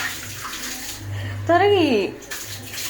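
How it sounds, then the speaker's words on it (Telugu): Running tap water splashes as something is washed under it, a steady close rush with a brief spoken word over it partway through. "ఇలా వాష్ చేసుకోవాలి"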